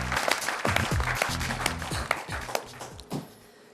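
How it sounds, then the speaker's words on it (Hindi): Scattered applause from a modest audience, with uneven individual claps and taps that thin out toward the end. "हम चाहते हैं विनोद सोनी जी का हम जोरदार तालियों के साथ स्वागत करें।"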